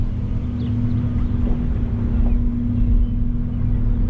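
Strong wind roars steadily across an open lake during a fishing trip, a loud continuous rumble buffeting the microphone with no voices.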